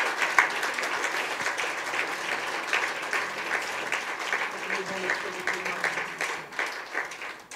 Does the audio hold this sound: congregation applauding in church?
yes